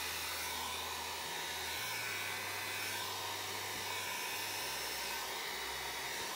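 Air from a blower pushes alcohol ink across a card in a steady, continuous whooshing hum that holds at an even level for the whole stretch.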